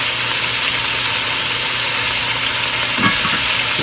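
Garlic, thyme and bay leaves sizzle loudly and steadily in a pot while being stirred, a dense continuous frying hiss close up, with a brief scrape of the spoon near the end and no talk.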